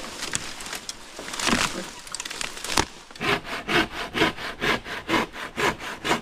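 Bamboo is cut in a forest with a hand saw, first with scattered scraping strokes and then with a fast, even run of rhythmic back-and-forth sawing, close and fairly quiet.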